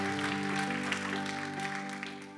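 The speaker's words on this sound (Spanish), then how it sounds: "Dele ese aplauso fuerte a Cristo," A church congregation claps together during a Spanish-language worship service, the steady applause running over sustained keyboard or organ chords that hold throughout.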